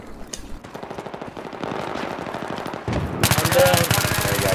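Bursts of automatic gunfire crackle through a multiplayer shooter match while players fight over a flag point, building from scattered shots to a loud dense burst near the end, with players talking over it.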